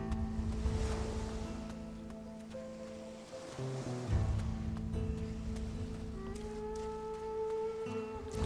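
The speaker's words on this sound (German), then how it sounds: "Das endlose Meer." Ocean waves on an endless sea in the video game Risen 2: a soft, continuous wash of surf with gentle swells and a faint breeze, calm and steady with no voices.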